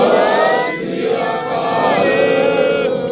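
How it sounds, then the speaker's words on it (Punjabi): A crowd at a Sikh flood-relief gathering in Gurdaspur roars back a loud jaikara chant, many voices shouting together in a drawn-out collective cry, close and forceful. "ਇੱਕ ਵਾਰੀ ਜਕਾਰਾ ਛੱਡਦੇ ਹਾਂ ਜੀ ਆਪਾਂ ਬੋਲੇ ਸੋ ਨਿਹਾਲ"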